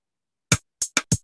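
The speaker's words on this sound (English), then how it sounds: "And we can add a little hi-hat maybe, like this one." Four short, crisp hi-hat hits, a single one followed by a quick group of three, dry and close with silence between.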